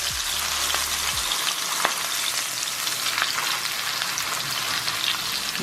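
A beef roast sears loudly in a hot pan after being turned with tongs, a steady broadband sizzle running throughout with a few small pops and scrapes, no talking.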